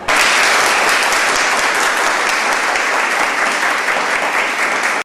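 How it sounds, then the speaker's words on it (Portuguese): A full round of audience applause at a Brazilian Portuguese talk, dense and steady clapping, loud and close, sustained for about five seconds before cutting off abruptly. "Eu queria fazer uma salva de palmas aqui"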